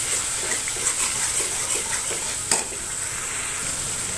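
Ginger paste and spices sauté in a pan for egg biryani, producing a steady close sizzle with rhythmic stirring scrapes and one sharp clack of the spatula partway through.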